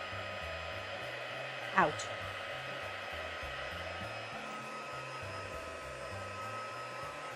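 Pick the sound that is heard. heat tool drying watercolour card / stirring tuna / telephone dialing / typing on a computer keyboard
heat tool drying watercolour card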